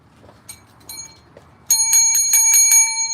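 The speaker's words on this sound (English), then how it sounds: "I was going to tap the bell here." A bell is tapped: a few faint clicks and light taps first, then a bright metallic ring struck several times in quick succession, loud and close.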